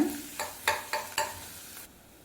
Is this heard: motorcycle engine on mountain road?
no